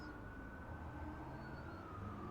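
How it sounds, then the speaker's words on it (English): Emergency sirens wail faintly in the distance, a thin drawn-out tone sliding slowly downward under a low background rumble, no one speaking. "I'm just so distracted right now because of the sirens in the background."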